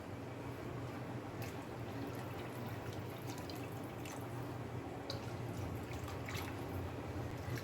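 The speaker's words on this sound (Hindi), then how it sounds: "भाजी के हिसाब से इनमें पानी डाल देते हैं।" Water is poured into a cooking pot while making Chhattisgarhi white chech bhaji, a steady, close splashing rush with dripping spatters that runs without a break, with no talking.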